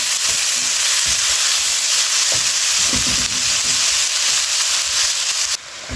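Sliced cabbage sautés in a hot pan, giving a loud, constant sizzle. A utensil stirring and turning the vegetables adds repeated soft scrapes and knocks.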